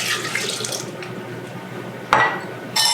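Two cups of apple cider vinegar are poured out for a homemade barbecue sauce. The liquid streams in a close, splashy run that tapers off, followed by a brief clink and a short second splash.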